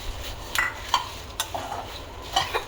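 Coriander seeds with finely chopped ingredients dry-roasting in a pan on a low gas flame, stirred with a utensil, giving light scraping and clinking taps at irregular intervals over a faint low sizzle, close and quiet.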